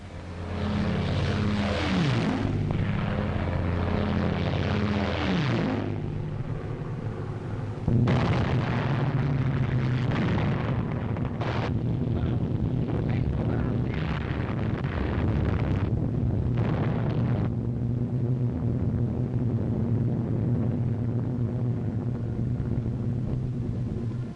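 RAF bombing raid in a wartime film: a continuous loud roar of aircraft engines and rumbling explosions, with dense heavy blasts and droning propellers filling the whole scene without any talking.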